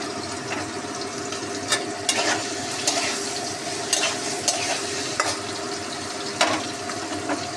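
Capsicum and paneer stir-fried in a pan, a steady close sizzle broken by regular spatula scrapes and taps against the metal, with no talk.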